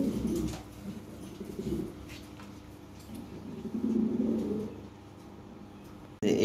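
Red Lahori pigeons in a breeder's loft give soft, low throaty coos in a few short bursts, close by and fairly quiet.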